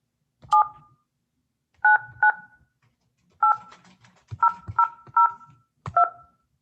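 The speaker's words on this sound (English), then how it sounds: "I'm going to try to get Ms. Kaufman on the phone right now" Telephone keypad tones beep one after another, about ten short dual-pitched presses in uneven bursts, clear and close against near silence.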